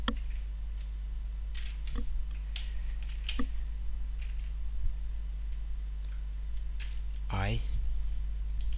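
A computer keyboard is typed on in short bursts of scattered clicks while a Java program is written, with steady background hum and a brief voiced sound near the end.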